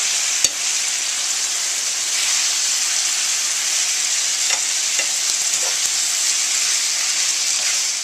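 Fajita steak meat sizzles steadily in a hot pan while being stirred, a loud continuous frying hiss with occasional scrape and clink of the utensil, no talking.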